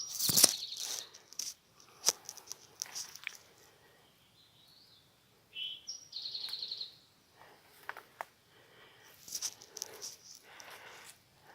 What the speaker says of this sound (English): Just have that one bird singing.